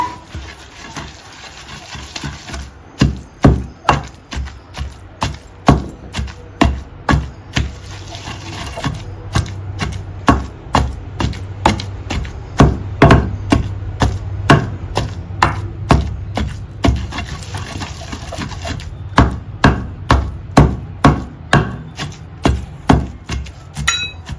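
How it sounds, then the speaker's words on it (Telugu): Gongura leaves pounded in a stone mortar for chutney, producing a long run of sharp, rhythmic thuds, close and loud, repeating steadily with brief pauses. "గోంగూరని మనం దీంట్లో వేసేయాలి వేసి దంచుకోవాలి"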